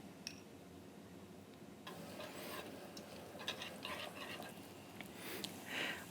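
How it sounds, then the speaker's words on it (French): Onions cooking gently in clarified butter give off a soft, steady sizzle with faint crackles and a few small clinks, low and continuous throughout. "On va laisser les oignons démarrer leur cuisson"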